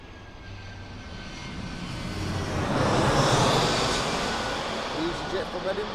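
EasyJet airliner from Edinburgh at Birmingham Airport makes a broad, rushing engine roar that swells to a peak midway and then slowly fades, with a voice faintly present underneath.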